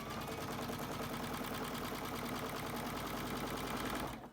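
A sewing machine stitches fabric and elastic on a face mask, a steady rapid mechanical whir running continuously and loudly up close before stopping abruptly at the end.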